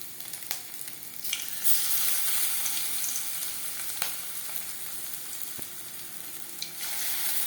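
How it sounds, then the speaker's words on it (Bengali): Prawn and vegetable pakoras deep-fry in refined oil over a medium flame, a constant bubbling sizzle that swells as batter drops in, with a few sharp clicks and taps scattered through. "পাকোড়া ভাজবো মিডিয়াম ফ্লেমে।"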